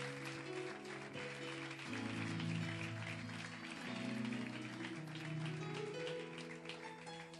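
A congregation at a church service in Barranquilla, Colombia applauds softly beneath sustained keyboard or organ chords, the scattered clapping blending into the steady music throughout.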